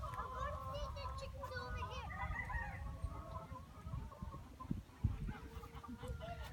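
Farmyard chickens cluck and chatter continuously at moderate distance on a family farm, mixed with wind rumble and people talking nearby.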